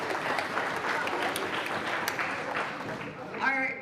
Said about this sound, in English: So, big round of applause for Ella